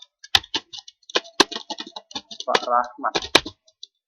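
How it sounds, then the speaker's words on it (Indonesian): Keyboard clicks while entering account names in MYOB v13 accounting software, a sparse irregular run of close taps mixed with a spoken voice. "kita ketikkan modal Pak Rahmat."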